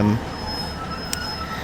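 Class 150/2 diesel multiple unit running in Train Simulator Classic, a steady rumbling engine and rail drone with a faint high whine and one brief clank, continuous and fairly close throughout.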